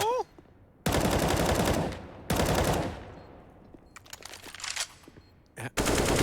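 AK rifle fire in a Counter-Strike match arrives as loud, rapid automatic bursts, two long sprays and a shorter closing burst, separated by quieter gaps holding faint game sounds.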